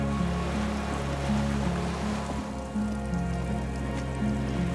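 Waves lap against a dock in the video game Disco Elysium, a steady washing hiss beneath a sustained low musical drone, even and continuous with no voices.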